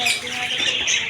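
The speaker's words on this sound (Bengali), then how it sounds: "এদিকে আছে অসংখ্য বাজরিকা পাখি, এদিকে আছে ককাটেল পাখি" Dense chirping and squawking from many caged budgerigars and cockatiels fills an indoor bird and pigeon market at Kashinathpur, Pabna, a close, continuous chatter of overlapping calls.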